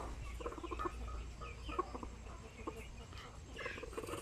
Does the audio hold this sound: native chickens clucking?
yes